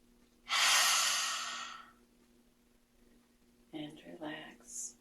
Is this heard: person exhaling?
yes